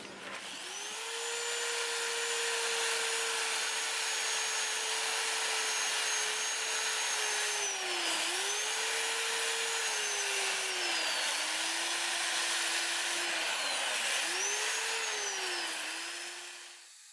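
Wood turning spinning on a lathe while 80 grit sandpaper is held against it, a continuous loud whirring drone whose pitch dips and recovers several times, with steady gritty hiss.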